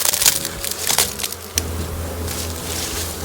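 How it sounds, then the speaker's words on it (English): Honey bees hum from an opened beehive, a steady low drone building and holding close by, with a few sharp crackles and scrapes near the start. "Oh, I hear some buzzing."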